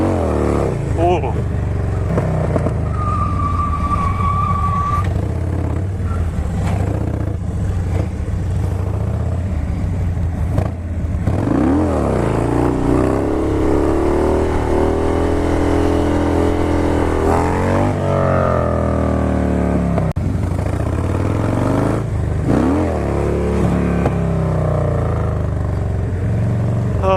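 Motorcycles revving and riding nearby, a loud, continuous engine drone with rising and falling revs swelling toward the middle, and voices talking over it.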